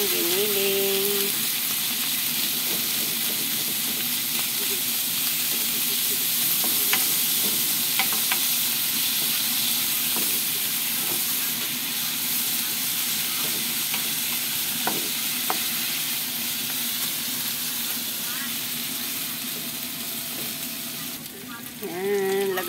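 Ground meat sizzles loudly and steadily in a pan for sautéed bitter gourd, with a spatula scraping and stirring now and then through the constant close frying hiss.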